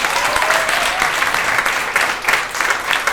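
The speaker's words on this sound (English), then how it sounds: "let's give them a round of applause" A festival crowd at the Chicago Community Fest applauds the performers with loud, close, continuous clapping, a few cheers rising within it.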